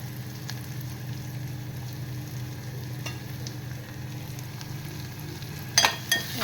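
A whole large onion sizzles and softens in a pan, giving a quiet, steady frying hiss throughout, with a few light clicks near the end.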